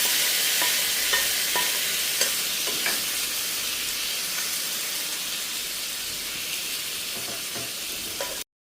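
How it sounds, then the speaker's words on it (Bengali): Reheated cooked chicken sizzling on a hot sizzling tray, a loud continuous hiss of frying with faint clicks and no talk. "কালকে যে আমি চিকেনটা রান্না করে রেখেছিলাম সেটা আজকে গরম করে তারপর হচ্ছে আমি এই যে সিজলিং ট্রেতে দিয়ে দিলাম"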